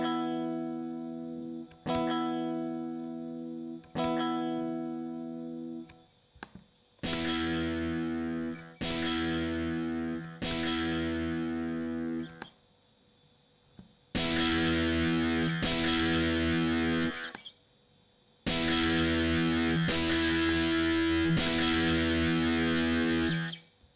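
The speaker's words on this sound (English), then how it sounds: "We are playing some power chords with the pedal turned off, so you can listen the clean sound," Electric guitar power chords strummed in short bursts, first several clean sustained chords, then louder, brighter, fuzzier chords through a HoRNet HDS1 distortion pedal, each group separated by brief gaps, with no talking.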